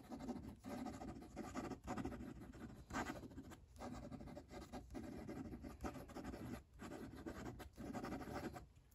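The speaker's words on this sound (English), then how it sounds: "Let's do some quick writing." A Tom's Studio pocket fountain pen scratches quickly across paper in quick scribbling strokes, with a steady rasping nib sound broken by brief pauses between lines, close and continuous with no talk.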